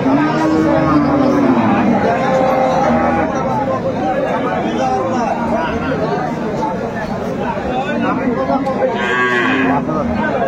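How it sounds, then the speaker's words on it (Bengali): A crossbred cow and her calf mooing at a cattle market, long loud lowing calls close by, overlapping with people chatting in the background. "চমৎকার গাভী বাছুর আমরা দেখছিলাম"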